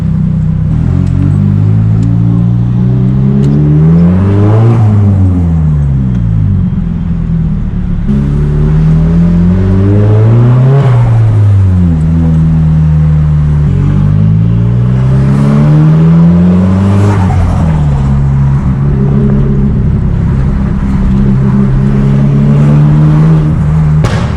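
A straight-piped S15 car being driven through city streets, its loud engine revving over and over in sweeping rises and drops, close and continuous with no talk.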